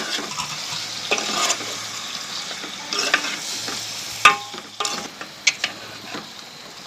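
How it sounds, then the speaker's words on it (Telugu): Mutton pieces stirred with turmeric in a pan, a steady frying sizzle broken by scraping spoon strokes and a few sharp clinks, close and alone with no talk. "ఇందులో మటన్ ముక్కలు వేసుకొని కలుపుకోవాలి"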